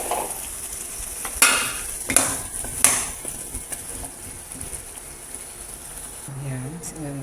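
Mung beans being mashed with squash in a cooking pot, with a few sharp utensil knocks against the pot and soft scraping and stirring, close by and without speech.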